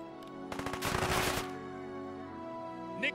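A short burst of automatic gunfire, about a second of rapid shots, rings out in an ambush in the World War 2 video game Headquarters, British campaign, then fades into a steady low hum.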